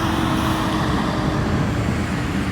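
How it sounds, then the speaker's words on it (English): Truck driving by on a road, a loud, steady rumble of engine and tire noise filling the whole moment, close and continuous with no voices over it. "Let this truck go by too."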